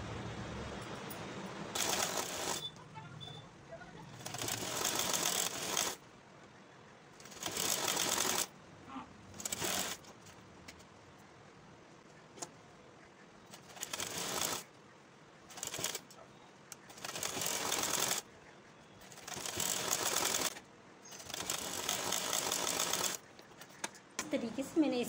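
Sewing machine stitching fabric while a summer neck design for a top is made, sounding in repeated bursts of several seconds each between pauses, close and fairly loud.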